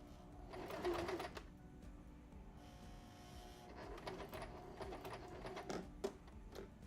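A sewing machine stitching a quilt runs in bursts of rapid, rhythmic mechanical clatter. The runs are separated by quieter pauses and pick up again more strongly toward the end.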